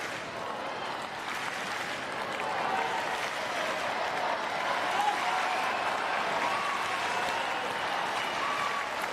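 Crowd applauding and cheering steadily throughout at a wheelchair tennis match during a men's singles tiebreak, a dense, sustained wash of clapping with no pauses.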